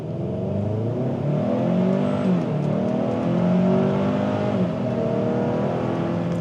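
A 2025 Hyundai Santa Cruz in sport mode accelerates hard, its engine note climbing and shifting through gears in a continuous rising drone heard from inside the cabin, with no talking.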